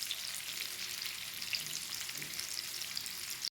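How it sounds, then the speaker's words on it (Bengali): Onions frying in a pan, cooked for a prawn dhoka curry, give a steady, close sizzle that continues evenly and cuts off abruptly at the end. "পেঁয়াজগুলো ভাজা হয়ে গেছে"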